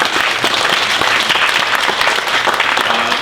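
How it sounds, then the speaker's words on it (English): Sustained, dense applause from an audience honoring interview guests, steady and loud throughout with no talking over it. "let's give them a round of applause"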